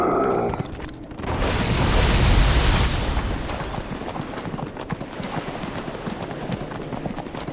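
In a Dungeons & Dragons game, a Water Horse mount makes a steady patter of hoofbeats under a dense wash of game noise and rumbling effects, with a swelling surge early on.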